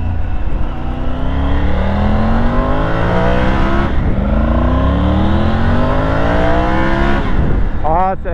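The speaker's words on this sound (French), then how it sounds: "elle commence à ouvrir un peu les gaz derrière" A Triumph Tiger motorcycle accelerates through the gears, its engine note climbing repeatedly in pitch with brief drops at each shift. It sounds loud and close, as if recorded onboard, with wind noise under it.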